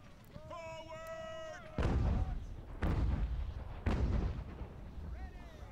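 Artillery fire in the video game Ultimate General: American Revolution, with three heavy cannon booms spaced about a second apart following a short musical cue, each blast loud and rumbling.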